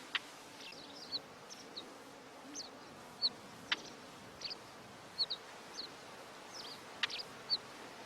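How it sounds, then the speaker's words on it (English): Midges and other blood-sucking insects whine around in the Siberian tundra, faint scattered buzzes passing close by one after another over a quiet outdoor background. "midges and other blood-sucking insects begin to attack all living beings in the tundra"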